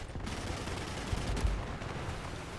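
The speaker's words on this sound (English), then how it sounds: "Fire off a few rounds, we might get some hits on that." A Ya-5M artillery boat's naval guns fire in War Thunder, giving a dense, rumbling stream of muffled booms and rapid shots with a couple of heavier thumps, steady and moderately loud.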